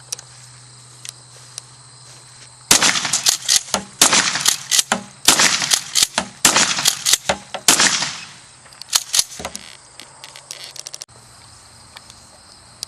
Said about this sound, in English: The rocket thing didn't really work, so I'm just going to finish it off with the 12 gauge now.